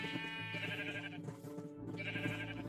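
Two sheep bleats in a Minecraft video game, loud and wavering, with a short gap between them, heard over a steady tonal background.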